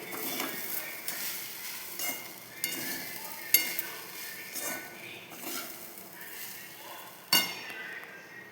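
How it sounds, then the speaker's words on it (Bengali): A spoon stirs chira pulao with sugar in a pan, scraping and clinking against the metal in irregular strokes with a few sharper knocks, over a faint low sizzle. "এবার একটু লাড়াচাড়া করে নিচ্ছি।"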